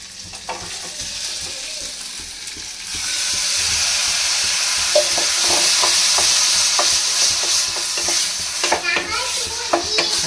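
Mutton fat sizzles steadily in a pan, the frying growing louder after the first few seconds, with irregular scraping and clicking from stirring throughout and no voices.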